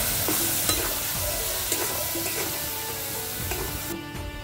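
Sour yogurt and paneer paste go into a pan of fried ginger and garlic for a paneer curry with tomato and capsicum, giving a steady close sizzle with occasional spoon scrapes and taps while stirring and no speech.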